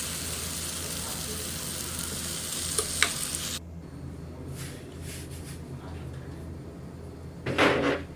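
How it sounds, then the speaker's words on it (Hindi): Potatoes fry with spices in a pan, a steady close sizzle for a few seconds that then drops to a quieter hiss with light stirring and utensil clatter. "आलू डालकर और इसको फ्राई करूँगी थोड़ी देर"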